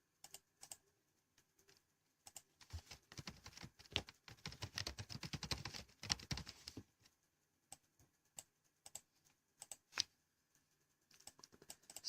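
Fingers typing on a computer keyboard, a dense run of quick key clicks in the middle with scattered single taps before and after, close but quiet, with no talking.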